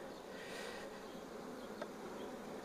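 Honeybees buzzing around an open hive during a brood and honey check, a soft continuous hum of many insects with a brief closer pass, fairly quiet and without talk.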